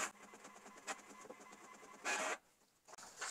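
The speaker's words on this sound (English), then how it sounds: "get it to print out of the HP 6555E printer" An HP 6555e inkjet printer printing a document, with quiet mechanical whirring and soft clicks, then a louder burst of feed noise near the end.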